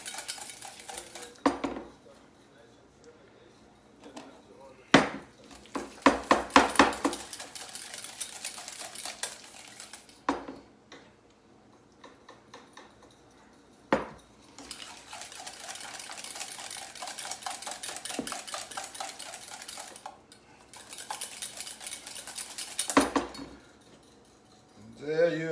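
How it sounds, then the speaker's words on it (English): Homemade mayonnaise is whisked in a bowl as oil is worked in, with bursts of rapid metallic whisk strokes against the bowl separated by short pauses. "Just one last whisk."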